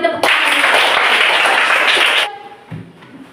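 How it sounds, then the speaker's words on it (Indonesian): Classroom of schoolchildren bursting into loud, dense applause during a primary school science lesson on light, lasting about two seconds before cutting off abruptly and leaving quiet room noise. "Kita beri tepuk tangan."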